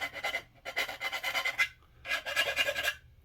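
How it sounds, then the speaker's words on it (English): Rapid scratchy rasping strokes of a rounded sanding stick rubbed back and forth in an inside corner of a hard model part, in two close bursts with a brief pause. "These are sanding sticks too. These are rounded, so it really helps in an inside corner like that."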